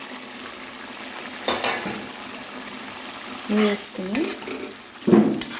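A Telugu-style curry with fried eggs stirred in a pan on the stove, giving soft sizzling and a few distinct scraping stirs, under a voice speaking briefly.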